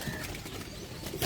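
Pigeons at a Lahore loft flutter their wings softly in the distance, a faint rustling flap against quiet outdoor background.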